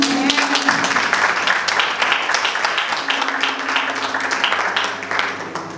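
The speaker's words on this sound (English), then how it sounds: "Let's clap our hands for Jesus" Church congregation clapping their hands for Jesus during a sermon, a loud, sustained wash of many hands with a low hum underneath.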